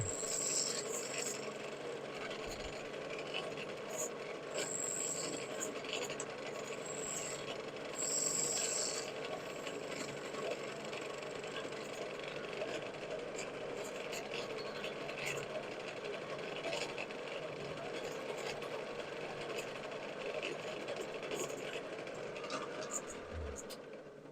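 Negative rake scraper held on edge against spinning wood on a lathe, a continuous close scraping hum with steady motor whine and faint ticks throughout, with talk over it.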